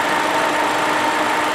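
A 2016 Ford Fiesta's 1.6-liter four-cylinder engine idles steadily, giving a continuous, even broadband hum at close range with no talk over it.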